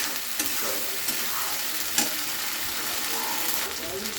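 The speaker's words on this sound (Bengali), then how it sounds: "খুব ভালো করে নাড়িয়ে নিচ্ছি।" Eggplant, potato and hilsa fish pieces fry with onion in a pan while a spoon stirs them, producing a close, steady sizzle broken by soft scraping strokes and light clatter.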